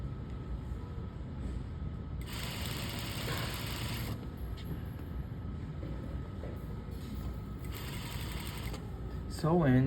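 A sewing machine stitches in stop-and-go bursts, a close rhythmic mechanical whir that starts, pauses and restarts, with a voice talking throughout.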